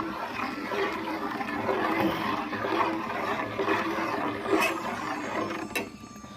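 Batter for chekodi snacks being beaten by hand in a bowl, a fast, continuous rhythmic churning and clattering close by, with a few brief louder knocks near the end.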